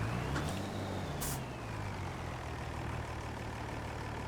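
Mercedes MB Trac tractor engine labouring under heavy load at its horsepower limit in Farming Simulator 25, a steady low diesel drone with a faint whine, close and continuous with no talk.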